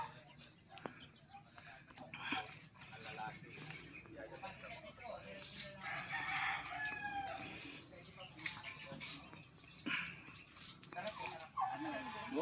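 A rooster crows at a chicken coop on a farm, with clucking from other fowl around it. People talk almost continuously over the birds.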